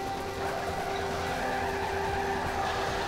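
Drift car in Torque Drift sliding through a tandem run, engine droning steadily with a sustained tire-skid hiss and tonal whine, loud and continuous without pauses.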